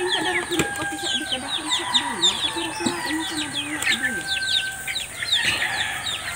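A mother hen with her one remaining chick in a rural Philippine yard gives soft, repeated clucks while the chick peeps in rapid high chirps, fairly close, with other birds chirping around.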